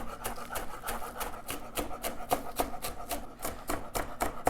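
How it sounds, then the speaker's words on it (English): A knife chops through four green onions on a cutting board in quick, steady strokes, about three per second, each a crisp close thud over a faint background hum. "I'm just gonna do all 4 and chop off the ends"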